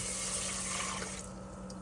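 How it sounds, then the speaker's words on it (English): Water poured into a rice cooker pot over rice, a steady rushing splash that fills the whole moment, dropping slightly softer toward the end as the pour tapers. "and then I'm gonna add 2 cups of water."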